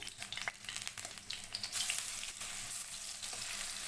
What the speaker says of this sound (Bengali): এবার আমি বড়াটা ভেজে নিচ্ছি